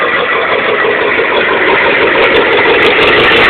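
A 7.3 IDI diesel engine, fitted with a 4-inch stack, idles after a cold start with a loud, steady, rough clatter that stays constant and close throughout.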